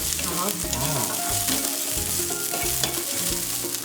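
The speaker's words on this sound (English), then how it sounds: "Just ചോപ്പ് ചെയ്തിരിക്കുന്ന coconut വെറുതെ ഇങ്ങനെ Try to roast. റോസ്റ്റ് ചെയ്യും, ഡ്രൈ റോസ്റ്റ്." Chopped coconut dry roasting in a pan with very little oil for a Coorgi chicken curry, stirred continuously, making a loud, close sizzling crackle with steady scraping.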